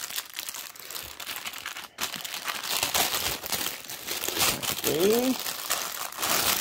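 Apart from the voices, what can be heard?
opening cross stitch kit packaging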